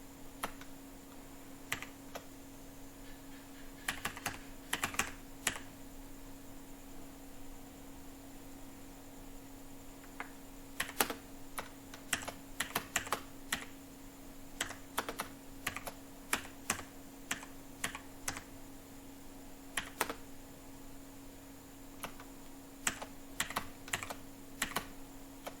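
Fast, steady typing on a computer keyboard while filling in an India Post recruitment form, with close, sharp key clicks in irregular bursts over a low steady hum and no talking.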